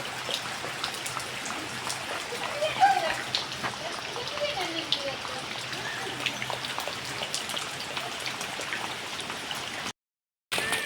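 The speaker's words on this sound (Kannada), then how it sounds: "ಮಳೆ ಬರ್ತಾ ಉಂಟು" Steady rain patters close by in a continuous, even wash of drops, with voices talking underneath and a brief dropout near the end.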